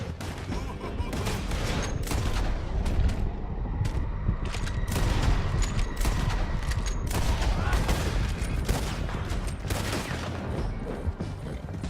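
Rapid gunfire from riders in a Red Dead Redemption 2 canyon chase, volleys of shots cracking steadily throughout amid galloping action, with brief shouted voices.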